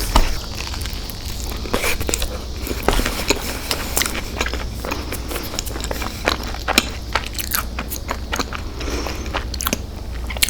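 Someone bites and chews Taco Bell rolled chicken tacos up close, with a steady run of crunchy, crackling bites and moist chewing that goes on throughout.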